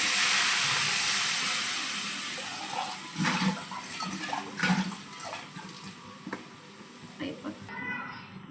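Water poured into a hot pan of omelette curry with curry leaves and onion bursts into a loud hissing sizzle that fades over a few seconds into softer bubbling and clinks, with someone talking.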